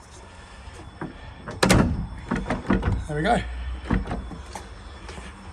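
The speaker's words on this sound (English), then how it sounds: "We've lifted the door, made the adjustments on the hinges, and now this is working" A house door being lifted and shifted on its hinges with an air wedge, giving several knocks, thunks and a short creak close by, with a voice speaking over the work.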